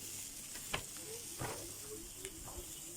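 June beetles frying in a pan sizzle with a soft, constant hiss, broken by a few sharp scraping clicks and stirring sounds, close by.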